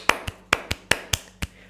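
One person claps bare hands close by, producing seven sharp, separate claps in an uneven rhythm with short pauses between them. No other sound intrudes.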